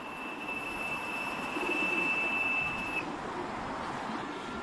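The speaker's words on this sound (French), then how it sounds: "Ceux-là, là, c'est mes pigeons." Pigeons coo in a cold winter setting in Beijing, soft low calls blended into a steady outdoor wash of noise, with a thin high whine running partway through.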